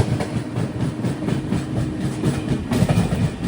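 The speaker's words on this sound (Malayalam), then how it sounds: "ട്രെയിൻ ഇപ്പോൾ സാമ്പൽപൂരിലേക്ക് എത്തുകയാണ്." The Tatanagar Express, running from Ernakulam toward Jamshedpur near Sambalpur, rumbles along the rails with a rhythmic clickety-clack, heard loud and steady from inside the 3AC coach.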